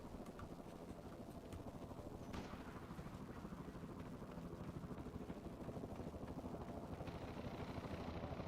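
A helicopter in the Battlefield 6 video game whirs as a steady, fairly faint rotor drone with a rhythmic beating pulse, continuing throughout with no voices.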